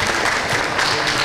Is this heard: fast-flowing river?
no